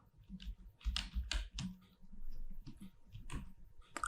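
Computer keyboard typing during coding in an Angular unit-testing tutorial. Light, quick key clicks come in bursts of taps with brief pauses, fairly faint and close, with no talking over them.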